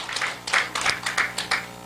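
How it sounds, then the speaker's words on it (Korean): A small audience at a civic launch ceremony claps briefly in a sparse patter of separate hand claps, close and moderately loud, with no voices. "다시 한번 뜨거운 박수로 대사를 해주신 여인철 우리 공동대표님을 응원해 주시고"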